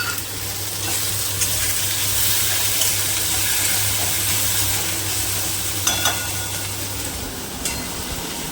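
Green peas fry in a wok, a constant close sizzle with stirring scrapes and a few clinks over a low steady hum. No one speaks.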